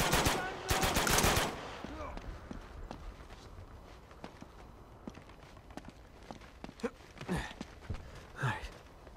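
Gunfire in Uncharted 2 opens with a loud, rapid burst of shots, then thins into scattered single cracks and footstep-like thuds across a quieter stretch, with a few sharper pops near the end.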